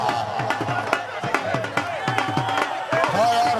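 Applause at a kabaddi match at a village fair, a loose run of sharp claps in an uneven rhythm over a steady outdoor crowd murmur, with voices talking throughout.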